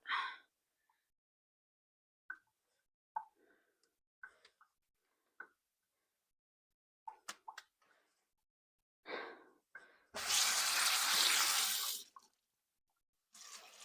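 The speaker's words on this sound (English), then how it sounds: "I'm rinsing out some items right now in the sink." A tap runs into a sink for about two seconds as items are rinsed out, a loud close burst of gushing water that follows scattered clicks and small knocks in an otherwise quiet room.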